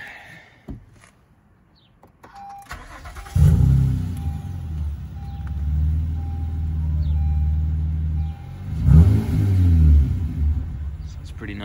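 A 2013 Honda Accord V6 with its muffler deleted cranks and fires up, then settles into a loud, deep, raspy idle. It is revved once near the end, with a voice briefly audible.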